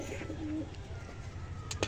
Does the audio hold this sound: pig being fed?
no